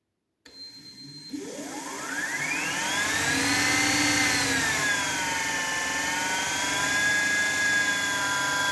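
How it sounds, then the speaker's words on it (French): Electric hang glider harness motor spooling up as the throttle is advanced: a rising whine sweeps upward over a couple of seconds, then settles into a steady, loud, close tonal hum. "donc je relance la commande des gaz."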